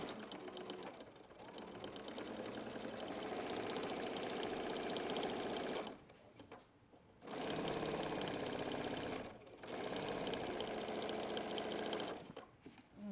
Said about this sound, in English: We are going to add our row of top stitching.